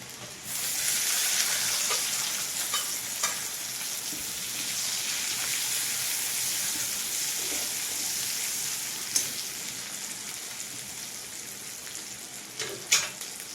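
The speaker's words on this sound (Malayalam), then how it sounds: "പച്ചമുളക് ചേർത്ത് കൊടുക്കാം" Green chillies fry in a pan for a homestyle chilli chicken, a steady close crackling sizzle that runs throughout with a few sharper pops near the end and no talking.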